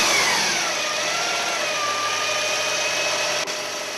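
A car engine runs in a shop, loud and close, holding a steady rumble with a rising and falling whine and slight revving changes; no talk over it.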